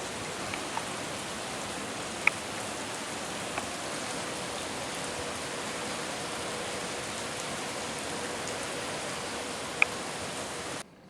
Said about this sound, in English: So it's raining pretty good out.